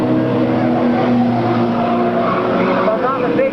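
Stock cars racing down the backstretch in a 1998 oval race, a loud sustained roar of engines under a commentator's excited voice.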